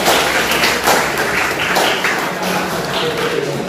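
A school crowd claps steadily for the students, a dense, continuous patter of applause held at an even level for several seconds with no voices over it.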